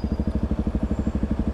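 A Yamaha WR125X motorcycle's single-cylinder engine runs at a steady idle close by, thumping in an even, rapid pulse with no talk over it.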